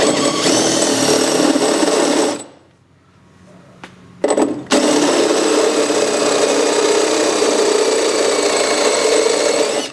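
A power drill whines continuously as a partly dull bit enlarges a bolt hole in metal during a 1968 Chrysler 300 exhaust install, briefly cutting out for about two seconds before spinning up again with a sharp restart.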